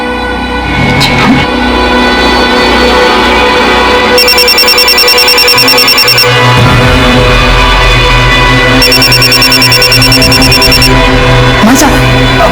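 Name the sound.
mobile phone ringing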